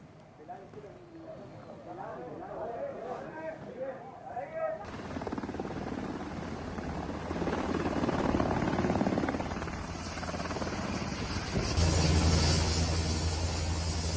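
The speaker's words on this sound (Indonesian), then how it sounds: "rekaman video terbaru menunjukkan helikopter militer Israel mendarat di helipad rumah sakit" Israeli military helicopter landing on a hospital helipad, its rotor chop and turbine whine rising loud and steady after a brief stretch of talk, swelling further near the end.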